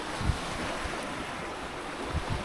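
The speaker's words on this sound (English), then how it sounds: "The wind is starting to fill in, maybe 12 to 14 knots." Wind and waves while sailing at dawn in roughly 12 to 14 knot winds, a steady rushing wash of water and wind buffeting the microphone, with a few low thumps of the hull.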